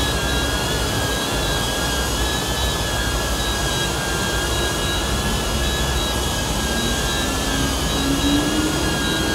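A DJI Neo drone gives a constant close, loud whirring buzz with high whining propeller tones. The sound holds steady throughout with no clear landing change, and no one speaks.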